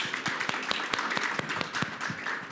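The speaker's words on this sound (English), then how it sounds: "Please, round of applause for all our great guests." Audience applause for panel guests at a blockchain data conference session, with scattered individual claps standing out clearly over a modest, moderately near round of clapping.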